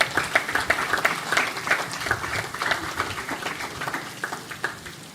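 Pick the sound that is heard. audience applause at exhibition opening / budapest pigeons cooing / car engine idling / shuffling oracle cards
audience applause at exhibition opening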